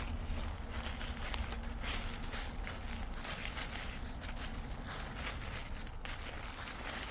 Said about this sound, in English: Hear the leaves crunching?